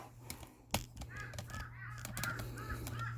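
Crows caw outdoors in a scatter of short, harsh calls, several in quick succession, sounding moderately distant over a low steady hum.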